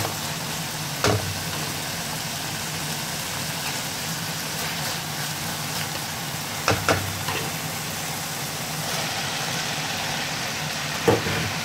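Bitter gourd (ampalaya) frying in a pan with minced beef sizzles in a steady, even hiss, with a few faint clicks and scrapes and no talk.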